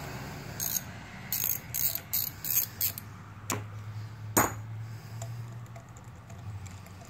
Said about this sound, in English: you're gonna definitely need a ratchet on there